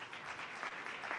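Audience applause for a conference panel, a soft, steady patter of clapping heard from a distance with no talk over it.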